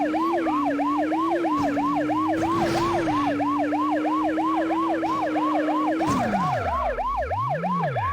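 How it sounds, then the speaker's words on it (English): Wailing police sirens in the racing video game Test Drive 6 cycle rapidly and continuously over a steady engine drone, with a pitch dip as a vehicle passes, all fairly loud. "The sirens are a bit annoying."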